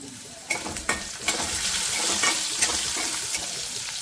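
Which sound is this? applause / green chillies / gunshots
green chillies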